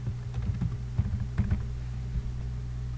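Typing on a computer keyboard, heard as a close, loud run of quick key clicks in uneven clusters that taper off toward the end over a low steady hum, with no talking.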